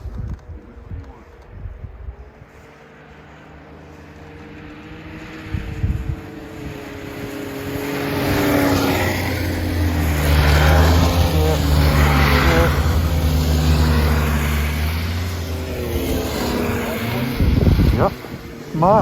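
Four-stroke snowmobiles come along a snowy trail, their engine drone swelling and rising in pitch as they approach and pass close by. People talk over the engines.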